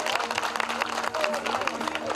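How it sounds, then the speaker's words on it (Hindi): An audience at a 2015 birthday celebration in Gilgit applauds, a dense, steady wash of many hands clapping with a voice speaking over it. "जरा तालियों से बता दीजिएगा।"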